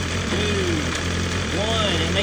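A BMW S1000RR/M1000RR sport motorcycle engine runs with a steady close hum, its pitch swooping down and back up in brief rev blips as it drops through the gears. A voice can be heard faintly.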